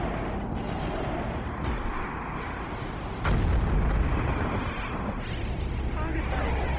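Ship cannon fire and explosions in the space strategy game Homeworld Cataclysm: a loud, rumbling barrage with sharp booming impacts, one heavy blast partway through, while a voice talks over the battle.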